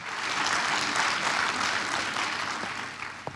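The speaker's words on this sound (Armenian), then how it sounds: "ձեր ծափողջունները ոգևորեք" A church congregation at an Armenian Christmas service applauds in a loud, dense, steady burst that carries on throughout and tapers slightly near the end.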